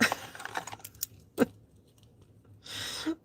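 Scissors from a big pile clink and jangle as they are handled, a burst of metallic rattles early, a sharper clack near the middle and a brief rustling scrape at the end.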